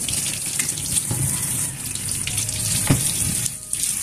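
Four eggplants are rinsed under a running kitchen tap, giving a steady rushing stream of water with brief splashes and shifts as they are turned in the flow.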